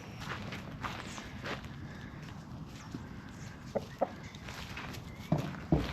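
Roosters on a farm give a few faint, scattered clucks and calls amid soft footsteps and quiet outdoor background, with no talking.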